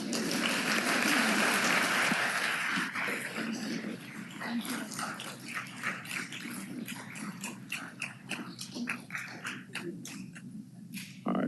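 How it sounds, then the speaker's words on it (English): An audience at a Memphis city council meeting claps in a dense burst that thins into scattered, uneven hand claps, with voices murmuring and speaking underneath. "We can clap for that"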